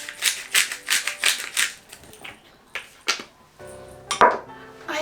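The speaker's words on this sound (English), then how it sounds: "Sliced pepper." A knife slices through pepper on a cutting board in quick rhythmic chops, a series of crisp close taps followed by a few scattered knocks and a clatter.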